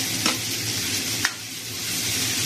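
Pinakbet vegetables with tomatoes sizzle loudly and steadily in a pan, a dense close frying hiss with two quick clinks of a spoon against the pan, no talking.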